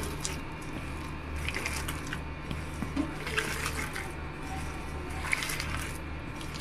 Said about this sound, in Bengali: এবার একসঙ্গে ভালো করে হাত দিয়ে মিশিয়ে নেব।